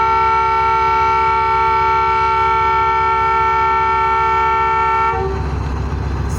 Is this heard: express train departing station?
yes